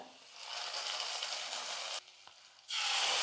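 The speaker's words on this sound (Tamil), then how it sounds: "வெங்காயம் வந்து நல்லா வதங்கிடுச்சு இப்போ கீரையில் வந்து சேர்த்துக்கிறேன்" Onions and greens sauté in hot oil, a bright close sizzle that cuts off briefly with a light clatter, then surges back as more is added, no speech.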